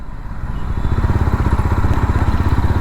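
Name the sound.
Jawa 42 FJ 350 motorcycle engine pulling away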